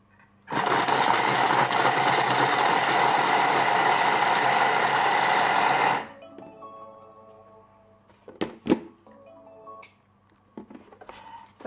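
Thermomix TM6 chopping ingredients at speed 5 for about five seconds, a loud steady whirring roar that starts abruptly and cuts off, followed by faint clicks and light knocks.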